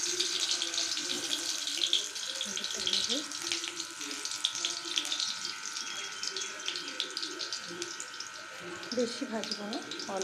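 A single potato frying in a pan for a quick shortcut chicken dish gives a steady, dense sizzling hiss that stays fairly even throughout, with faint background voices and small clatters underneath.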